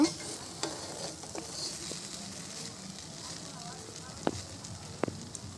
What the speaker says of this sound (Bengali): আমি এখন কিছুটা নাড়াচাড়া করে নিব।